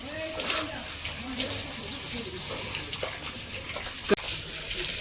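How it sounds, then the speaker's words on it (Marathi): Water splashes and pours steadily while someone bathes after washing clothes. One sharp splash lands near the end, and a faint voice is heard under the water. "आता करतो आंघोळ"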